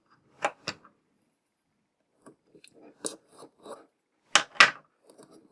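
Cardboard and plastic window packaging of a Marvel Legends Astral Projection Doctor Strange action figure being opened, with sharp crinkling snaps and scattered rustles in bursts, close and moderately loud, no talking.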